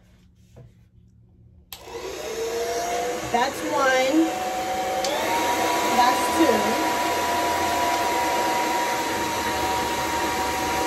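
A Conair Silver Bird blow dryer switches on after a quiet start and runs with a steady, loud whooshing hum, a woman counting aloud over it.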